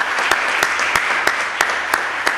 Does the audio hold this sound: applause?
yes